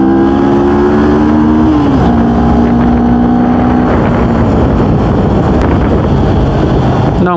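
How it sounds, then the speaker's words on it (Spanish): A CF Moto NK400 with an inline twin-cylinder engine runs in traffic, its loud, close exhaust drone stepping in pitch as it revs and shifts, overlaid by heavy wind rush across the microphone. "Esta moto es un motor bicilíndrico"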